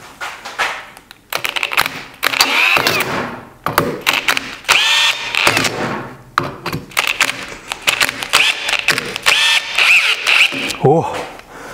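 A cordless drill driver drives a screw into a wooden block in repeated whirring bursts with rising pitch and short stops, close and loud, with speech mixed in.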